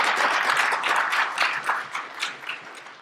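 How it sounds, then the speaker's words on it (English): Applause from an audience at an economic forecast breakfast panel, a dense patter of clapping hands that fades gradually over a few seconds, with no talking over it. "let's give them a round of"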